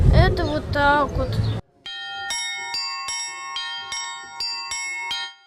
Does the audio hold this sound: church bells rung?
yes